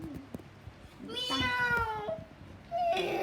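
A cat meows a couple of times up close, with drawn-out, wavering cries over quiet room background noise.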